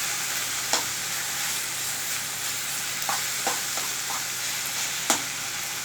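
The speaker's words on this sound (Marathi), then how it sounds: "फडफडीत अशी फ्राय हे होते ही करडी" Safflower greens fry in a pan with a constant, even hiss, while a spoon knocks against the pan now and then in sparse, light clicks.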